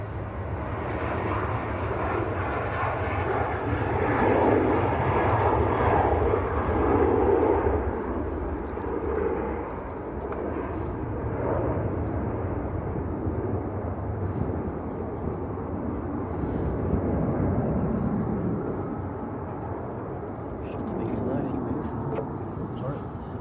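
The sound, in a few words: Ryanair airliner taxiing away at Manchester Airport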